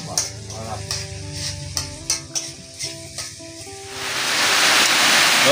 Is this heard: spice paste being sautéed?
yes